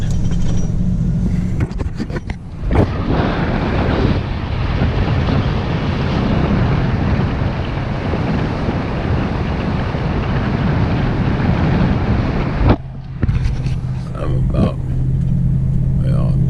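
A Ford F250 4x4 pickup drives along wet beach sand beside the surf, a steady loud rumble of engine and tires with heavy wind buffeting the microphone and someone talking over it.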